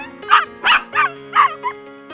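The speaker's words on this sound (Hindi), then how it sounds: "तभी उसने सड़क पर एक भूखा पिल्ला देखा।" A puppy gives five high, yelping barks in a quick irregular run, close by, over a steady low hum in the background.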